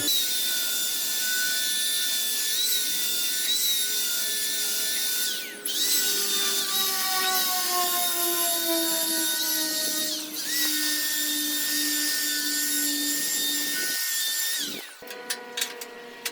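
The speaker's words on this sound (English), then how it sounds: "I'm using that same abrasive disc here on the top for where I will be welding those angle irons to" An abrasive disc on an angle grinder cleans a steel surface where angle irons will be welded, a loud, continuous high whine with brief dips as the disc is lifted and pressed back, ending in a few scrapes.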